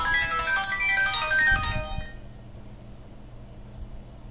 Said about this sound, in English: excuse me while I turn my phone off